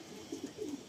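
An old male Madrasi pigeon in Kolkata gives a short, soft pair of low coos, close by and quiet against faint background hiss.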